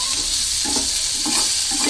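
Food frying in a pan at breakfast, a loud continuous sizzle up close with repeated scraping strokes of a utensil stirring through it, no talking.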